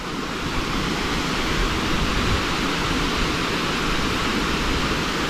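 Rainbow Falls in Gorges State Park roars in winter, a loud, steady broadband rush of falling water heard up close with no variation and no talking.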